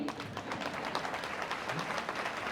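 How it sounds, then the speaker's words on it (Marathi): Audience applause closes a lecture in a public lecture series, a dense, steady patter of many hands clapping at moderate volume for the whole stretch, with no voices rising above it. "आवडलं असलं नसलं तरी सुद्धा टाळ्या वाजवा"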